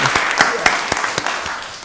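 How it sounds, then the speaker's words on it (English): Audience applause at a Rockdale County Board of Commissioners meeting in Georgia, a steady patter of many hands at moderate loudness with a few sharper claps standing out, and faint voices underneath. "Give them another round of applause."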